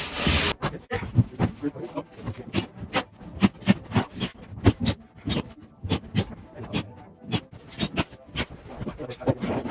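A rasp file scrapes along a wooden edge, with repeated rough strokes in an uneven rhythm, loud and close.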